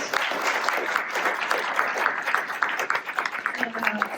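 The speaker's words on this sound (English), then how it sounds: "let's just applaud that climate action" Audience applause in a room of people at a community clean energy event, steady dense clapping lasting the whole stretch, with some voices mixed in near the end.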